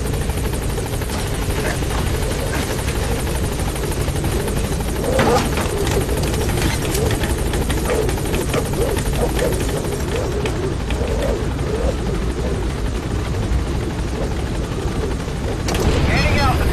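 A helicopter in Metal Gear Solid 5: The Phantom Pain thrums loudly and continuously with a steady rotor roar, close and constant, with faint radio chatter mixed in.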